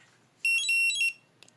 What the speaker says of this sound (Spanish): Dejarla presionada durante unos segundos hasta que se escuche un bip